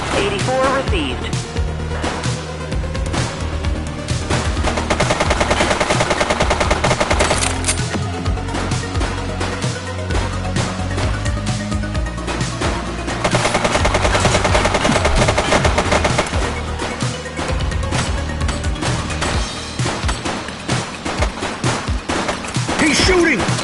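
Gunfire in The Precinct, sustained rapid automatic bursts and scattered shots repeating across the stretch, loud and close over a busy mix with a siren-like wail, and voices shouting at times.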